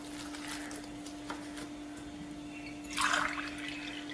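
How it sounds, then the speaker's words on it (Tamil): Water is poured into pearl millet flour for kambu koozh porridge, a faint trickling and splashing close by that swells briefly toward the end, with a steady hum underneath and no talk. "2 கப் தண்ணி ஊற்றிருக்கேன்."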